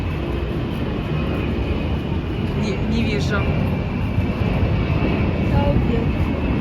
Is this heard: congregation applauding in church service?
no